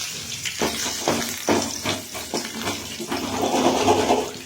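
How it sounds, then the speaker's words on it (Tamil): Mustard seeds and curry leaves crackle and pop in hot oil while egg rice is being made, giving close, irregular sputtering bursts that build into a denser sizzle toward the end. "கடுகு போட்டோம். கொஞ்சம் கருவேப்பிலை போடுறோம். நல்லா பொரியுதுங்களா?"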